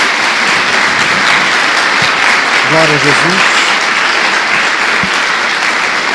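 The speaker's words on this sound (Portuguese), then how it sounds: "Dê uma salva de palmas ao Senhor." A church congregation claps loudly and continuously, a dense wash of applause, while a voice speaks briefly over it.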